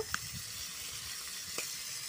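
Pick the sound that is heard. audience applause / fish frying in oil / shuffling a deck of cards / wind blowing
fish frying in oil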